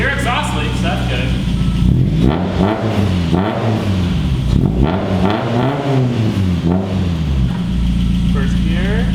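A Miata-engined Datsun roadster with a freshly gasketed exhaust revs up loudly in repeated rising and falling sweeps over a steady idle rumble, close by, with people talking.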